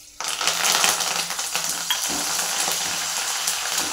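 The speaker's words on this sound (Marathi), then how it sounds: "तळून घेऊया कढीपत्ता" Curry leaves fry in hot oil in a pan with a loud, steady crackling sizzle that starts abruptly and holds throughout, heard close with occasional stirring knocks and no voices.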